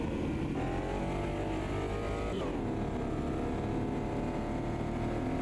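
A race car engine in the Automobilista 2 racing game drones loudly and continuously through a lap, with a pitch shift partway through as the revs change and gears shift.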